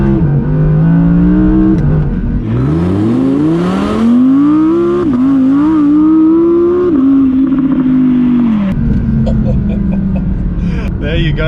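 A rear-wheel-drive Audi R8 with a 540 PS 5.2 litre V10 revs hard under acceleration, its loud engine note climbing steadily, dipping briefly at a shift, then rising again through the gears with a close, continuous roar.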